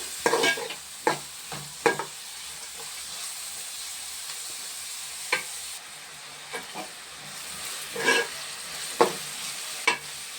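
Green chillies being stirred and fried in a pan: a steady hiss of sizzling oil punctuated by repeated scraping clacks of the spoon against the pan, close and clear.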